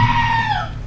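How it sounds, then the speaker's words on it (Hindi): A screaming goat in a video game lets out one short, loud, bleating cry that slides downward in pitch and fades out. "मैं इस चिल्लाने वाली बकरी को सुन रहा हूँ ना।"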